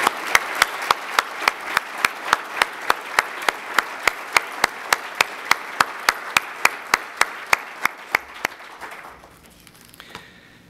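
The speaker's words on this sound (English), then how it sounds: "please give Chief Juniger a round of applause." Audience applause at a Gresham State of the City address: sharp, evenly spaced claps in a steady rhythm, strong and close for about nine seconds before quickly fading away.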